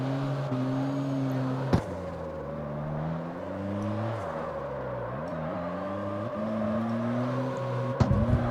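Engine of a front-wheel-drive drift car in the CarX Street racing game, droning steadily with pitch rising and falling as the throttle shifts, with a couple of sharp knocks near the start and end and no talk.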